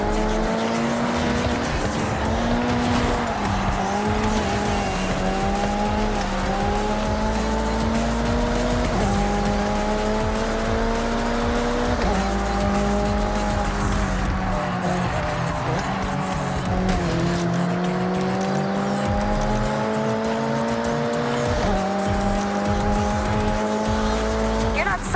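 Race cars in Forza Horizon 6 roar with a steady, loud engine drone that rises and dips through gear changes, with tire squeal running through the whole stretch and no talk over it.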